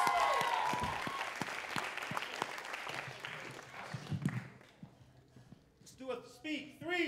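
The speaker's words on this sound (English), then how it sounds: "Round of applause." Applause from a spoken word poetry showcase audience starts dense and fairly loud, then thins to scattered individual claps and fades out as a voice begins speaking near the end.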